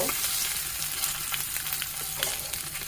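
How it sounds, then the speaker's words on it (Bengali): A hilsa fish tail fries in hot oil alongside fried chilies and garlic, a dense, continuous crackling sizzle with a few sharper pops, close and loud throughout. "আর এখানে আমি ইলিশ মাছের লেজটা ভেজে নিব।"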